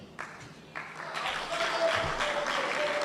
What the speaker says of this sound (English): the people are even clapping